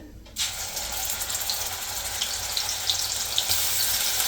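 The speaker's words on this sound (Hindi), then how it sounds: "प्याज भुन गया है" Loud, steady sizzling of grated onions frying in a hot pan, a continuous crackle close by that grows slightly stronger after an initial burst.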